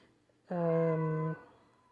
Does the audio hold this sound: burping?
no